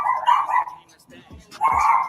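A puppy gives two short, high yips or barks a moment apart, close and fairly loud, with a voice speaking faintly between them.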